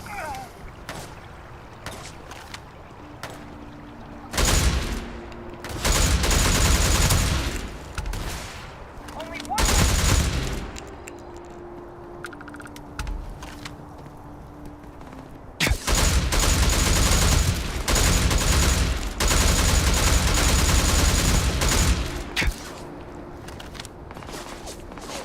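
In the video game Starfield, a gun fires in several long, loud bursts of rapid automatic shots separated by quieter gaps, the later bursts running several seconds each.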